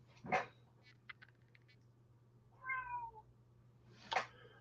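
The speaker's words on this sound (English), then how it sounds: "see how much this cat goes in and out?" A cat meows alone in a quiet room, a short call at the start, a softer rising mew in the middle and another sharp meow near the end, close and fairly clear over a faint low hum.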